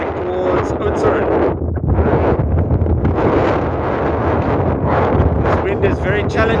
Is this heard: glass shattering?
no